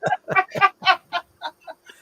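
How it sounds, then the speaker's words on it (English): A rubber chicken squeezed about nine times in quick succession, each squawk a short honking squeal, the first ones loud and close, the later ones weaker and more spaced out. "rubber chicken."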